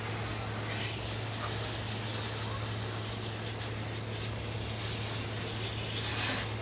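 A cleaner is sprayed down onto an air conditioner unit, making a steady, broad hissing wash that runs without a break under a constant low mains hum. No one talks.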